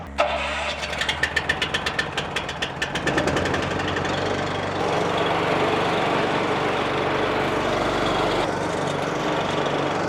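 An OREC ZHR800 stand-on tracked flail mower starting up, its engine chugging in rapid pulses before settling into a loud, steady, close running roar.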